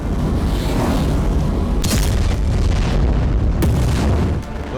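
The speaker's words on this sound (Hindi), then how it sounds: "कहीं एक साथ दर्जनों बम बरस रहे हैं," Bombs exploding in Gaza make a dense, continuous roar of blasts with two sharper loud bursts standing out, all close and heavy with no pauses between them.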